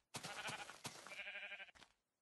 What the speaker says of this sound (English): And here you can obviously find sheep.